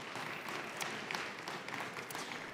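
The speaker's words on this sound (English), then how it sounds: "Maybe we can have another quick round of applause for the graduates of the class of 2025." Audience applause for the class of 2025 graduates at a livestreamed event, a fairly faint, steady patter of many hands clapping throughout with no voices over it.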